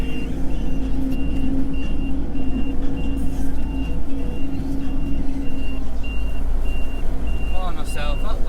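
A machine, likely a tractor, backs up with steady evenly spaced reversing beeps while pushing hay bales tight, its engine droning low and constant throughout, with a brief higher squeal near the end.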